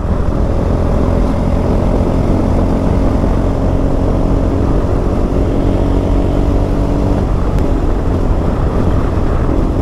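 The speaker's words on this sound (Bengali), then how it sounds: "এই জঙ্গলের ভেতর দিয়ে বাইক চালাতে আমার আলাদাই লাগে" A KTM Adventure 390 motorcycle engine drones steadily and loudly while riding through forest, with continuous wind rush over it and no break in the sound.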